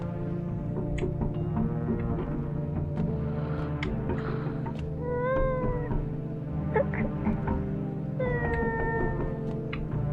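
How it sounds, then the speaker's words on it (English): A cat yelling, several drawn-out wavering meows rising and falling, loud and close over a steady low hum, with no talk. "Okay, so that's just the cat yelling right now."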